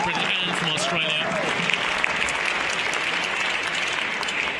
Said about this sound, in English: And deserved applause too from the crowd here at the Omnisport Arena in Apeldoorn